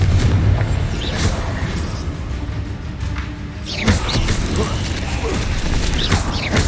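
The Confringo fire spell bursts in Hogwarts Legacy. Loud booming blasts and crackling debris rise over a dense, rumbling mechanical game soundscape, with the biggest burst arriving midway.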